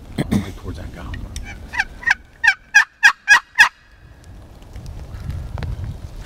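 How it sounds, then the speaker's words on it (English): A wild turkey gobbler gobbles in the woods, a rapid series of about six sharp, rattling pulses building in loudness, fairly near and clear, with wind noise and rustling before and after. "Didn't really see a whole lot of birds, but we did get into some gobbling."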